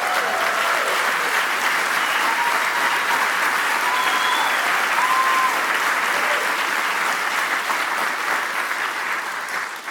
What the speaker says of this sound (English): as your applause indicates